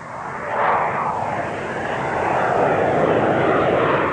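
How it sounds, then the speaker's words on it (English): An RAF Harrier attack jet roars past, its loud broadband engine noise swelling in at once and holding steady with a slow sweeping pitch shift as it passes, unbroken by voices. "A frontline attack aircraft of such capability is the RAF's Harrier."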